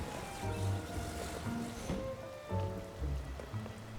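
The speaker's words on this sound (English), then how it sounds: "You're not affected by the rain, right?" Steady rain in the video game Zelda: Tears of the Kingdom, a continuous soft patter with game music tones layered over it, no talking.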